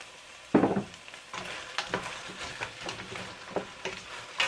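Stewed goat with cashews and a splash of Haitian rum stirred in a pot: a sharp clatter of the spoon, then repeated soft scraping strokes and light sizzling, close and moderately quiet, with no talk.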